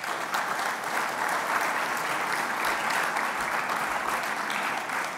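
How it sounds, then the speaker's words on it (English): A large conference audience claps for the program committee, a thick sustained wash of applause that stays even and loud from start to finish. "Give them a round of applause."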